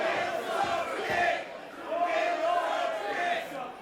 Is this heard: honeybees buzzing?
no